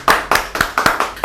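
An audience claps hands at a talk in a series of sharp, separate claps, about six or seven loose beats in just over a second, close and fairly loud with no voices.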